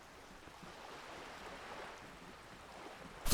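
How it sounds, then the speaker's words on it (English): Wind blows through the Disco Elysium video game as a soft, airy rush that builds gradually. A sudden louder gust hits at the very end. "a sudden gust raises the postcard to the drizzle-grey sky above"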